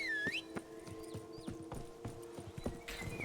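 Hooves of the horse Roach clip-clop at a steady walking rhythm in The Witcher 3, close and clear, with a short whinny at the start and again near the end, no talk.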